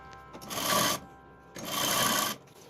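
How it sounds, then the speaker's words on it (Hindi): A sewing machine stitches a strip onto a kurti in two loud, steady bursts with a short pause between them, and nobody speaks. "आगे हम स्ट्रिप रख करके लास्ट तक हम इस स्ट्रिप को इसके साथ सिलते हैं अपने कमीज के साथ"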